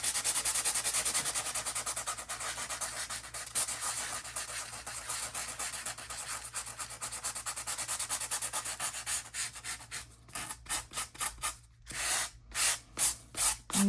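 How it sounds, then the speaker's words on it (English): A sanding block scrubs the edges of two-tone cardstock in continuous close, loud rasping strokes, then breaks into shorter rhythmic passes near the end, with no talking. "Just by taking a sanding block and sanding off some of those high points."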